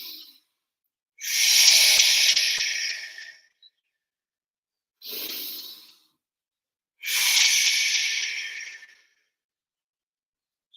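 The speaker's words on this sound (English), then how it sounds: "So breathing in as you come to the center, and breathing out as you come across." Deep breathing during a morning mind-and-body exercise routine, three long airy breaths separated by silent pauses, close and clear, each a steady hiss of inhaling or exhaling lasting one to two seconds.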